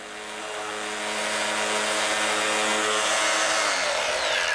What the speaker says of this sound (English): This is the new Porter Cable 9444 profile sander.